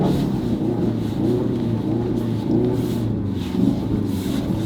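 A Ford Focus RS on summer tires in deep snow, handbrake pulled, gives a steady, close engine rumble with a low drone and soft flapping noise that rise slightly toward the end.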